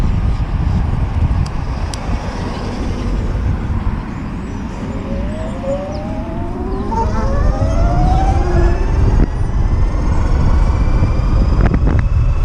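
A car drives past outdoors in strong wind, its engine tone rising and sweeping mid-pass before fading, with steady wind buffeting the microphone throughout.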